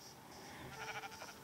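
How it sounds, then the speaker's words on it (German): Minecraft sheep bleating, a short nasal in-game bleat rising near the end of a brief, quiet clip with no talk over it. "drei Schafe, das ist doch gut"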